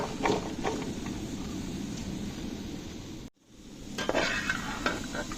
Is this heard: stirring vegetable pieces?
yes